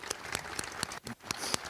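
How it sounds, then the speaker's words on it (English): Audience applause at a college basketball coach's introductory press conference, a steady patter of clapping hands with sharp individual claps, dipping briefly in the middle before picking back up. "Let's give Gene another round of applause."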